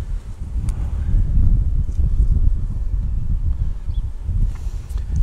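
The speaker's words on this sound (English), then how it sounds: "Whoop, windy." Wind buffeting a microphone outdoors while pizza is made beside an Ooni Koda 16 pizza oven, a low continuous rumbling gust noise with faint rustles on top.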